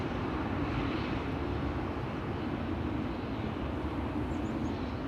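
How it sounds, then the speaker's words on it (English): An Airbus A321 airliner passes at Schiphol Airport as a steady, broad engine roar that holds loud and even from start to finish, with no talk. "there is an A321 to Berlin coming this way"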